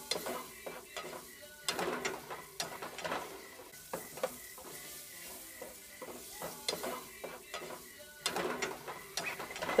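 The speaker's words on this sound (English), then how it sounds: "We have grinded up our mushroom and garlic, and we're just going to add that to the hot pan now and fry that for a little bit" Ground mushroom and garlic fry in a hot pan, quiet sizzling under frequent clinks and scrapes of a utensil stirring against the pan, with no talking.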